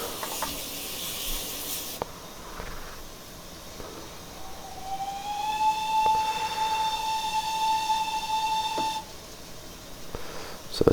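A GWR pannier tank steam locomotive whistle in Train Simulator Classic gives one steady, sustained tone of about four seconds with a sharp start and stop, heard over a continuous low rumble of the engine.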